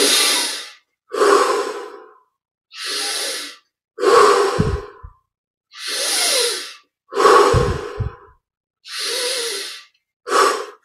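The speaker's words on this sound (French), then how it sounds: "Maintenant, on augmente l'amplitude à chaque respiration." Deep meditative breaths during a yoga and chant session, slow alternating inhales and exhales in long hissing bursts separated by pauses, close and loud, with some breaths ending in a snort-like push.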